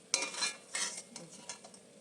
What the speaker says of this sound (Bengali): ঠিক এইরকম করে আমি চিংড়ির বড়াগুলো ভেজে নিই।